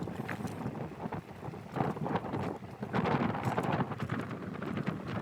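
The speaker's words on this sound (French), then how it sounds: "Il y a beaucoup de vent, il fait froid dans la forêt." Strong, cold wind gusts in a forest during an electric scooter ride, heard as a rough, rumbling buffeting that rises and falls in irregular bursts, with no speech.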